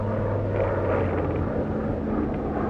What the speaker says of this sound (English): Listen. Ain't nothing but a plane.